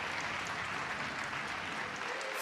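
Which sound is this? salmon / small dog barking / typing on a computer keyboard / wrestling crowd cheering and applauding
wrestling crowd cheering and applauding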